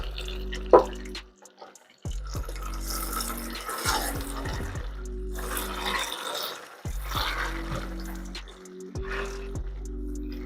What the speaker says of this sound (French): Je rajoute un peu d'eau dans ma sauce.